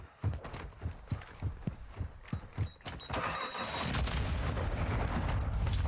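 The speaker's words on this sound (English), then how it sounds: "I'm getting grenades thrown at me?" Repeated grenade blasts in Call of Duty DMZ arrive as a run of evenly spaced heavy thumps, then give way to a loud, continuous roar of gunfire and explosions.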